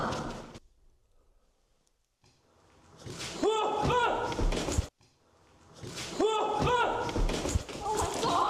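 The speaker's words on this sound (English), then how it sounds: "Did the door close? Yep. It tried to shut me in there." A door in an abandoned building swings and slams shut with a solid thud, heard amid voices talking nearby in an echoing interior.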